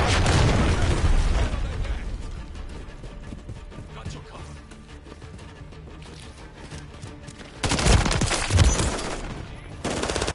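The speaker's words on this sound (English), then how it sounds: "Hostiles launched a cruise missile" Cruise missile strike explosions in a Call of Duty team deathmatch round: heavy booming blasts at the start and again near the end, over a steady rumble of battle noise.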